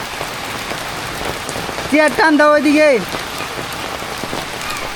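Rain falls steadily on a village yard in the afternoon, a continuous dense patter throughout, with a person calling out loudly over it for about a second in the middle.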